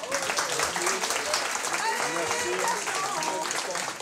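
An audience at a dictation contest applauds the contestants with sustained, fairly loud clapping filling the room, with voices mixed in beneath.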